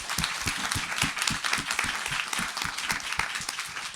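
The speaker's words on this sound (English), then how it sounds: "can we give our panelists a big round of applause" Audience applause for the panelists at a panel discussion on juvenile carjacking, steady dense clapping that holds for the full stretch with no talk over it.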